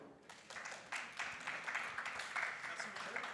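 An audience at the Salon Objectif Green 2023 trade event applauds to welcome speaker Olivier Langlois, a dense, steady patter of many hands clapping that swells after a quiet start and holds at a moderate distance.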